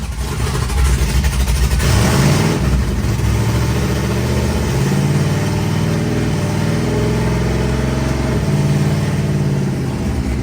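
A boosted car engine roars loudly and steadily close by, revving up as it accelerates through the gears with sustained throaty drone and shifting pitch, no talk over it.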